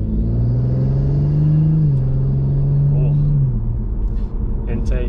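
Audi B9 S4 engine and intake droning steadily from inside the cabin while driving, a loud sustained rumble with a rising harmonic tone that settles and holds, with brief voices near the end.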